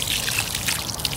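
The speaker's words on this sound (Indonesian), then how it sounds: "Nah setelah semua sudah selesai, ini tinggal saya siramin aja" Water sprinkles steadily over a freshly planted garden bed, a continuous close hiss of spray and trickle with no break.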